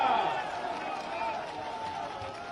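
Dense, steady applause from a crowd at a BJP public rally in Bhander, Madhya Pradesh, greeting Chief Minister Shivraj Singh Chouhan; a continuous wash of clapping with voices mixed in, holding at a fairly even level.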